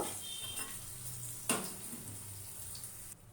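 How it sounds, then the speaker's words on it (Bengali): Potatoes fry in a pan with a little salt and turmeric, giving a soft steady sizzle close by, with a sharp metallic clink of a utensil stirring partway through and no talking. "দিয়ে দেবো অল্প লবণ অল্প হলুদ ভেজে নেব"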